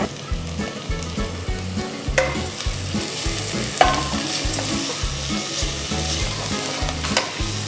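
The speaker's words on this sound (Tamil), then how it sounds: "வெங்காயம் போட்டு ஒரு ரெண்டு நிமிஷம் கழிச்சு நான் இதில் ஒரு ஆறு பெரிய பல்லு பூண்டு நல்லா நசுக்கி அதாவது தட்டி போடுறேன்" Onions frying in a pan with crushed garlic cloves just added for a tomato kadayal, a loud steady sizzle broken by regular scraping stirs and a few sharper clanks, close up with no talking.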